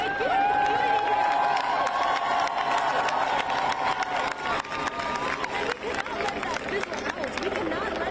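A large crowd of students at a protest encampment in Los Angeles fills the air with loud, continuous chatter, shouts and scattered cheering, with voices speaking and calling out nearby throughout.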